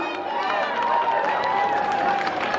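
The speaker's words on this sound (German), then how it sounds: "Mal einen riesen Applaus von Köln" A crowd applauds at Cologne's longest-table street gathering: a dense, steady wash of clapping and cheering that holds at an even level for the whole stretch, with voices mixed in.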